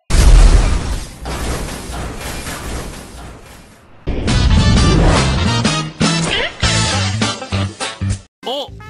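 A bomb explodes in a video game with a loud, close boom that rolls off over a few seconds, followed by busy game sounds and voices.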